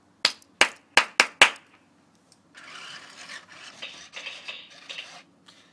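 Five sharp, close hand claps in quick succession, then a pause before the Prime 8 toy robot starts moving with a soft, scraping, shuffling tap-dance rattle that continues for a few seconds.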